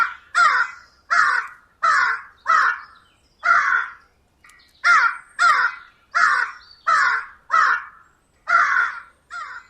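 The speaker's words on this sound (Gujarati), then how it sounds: "પપ્પુ કાગડાનો સતત અવાજ સાંભળીને વાઘ અટકી ગયો." A crow caws loudly again and again, about a dozen harsh, evenly spaced calls close by, with a brief pause partway through and near silence between calls.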